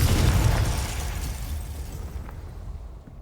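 A Confringo fire spell bursts in the video game Hogwarts Legacy, a loud, rumbling explosion that hits at once and then fades away over a few seconds.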